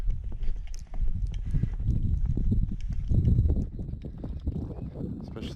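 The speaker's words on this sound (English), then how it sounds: "Horses are acting crazy." Several horses moving about restlessly on ground covered with about five inches of snow, with a steady run of near hoof thuds and scuffs and brief louder moments.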